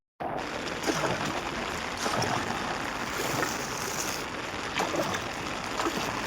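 A boat moving across the sea near Mazakol makes a steady, fairly loud rush of water and hull noise that starts abruptly and runs on with a few surging swells, with no one talking.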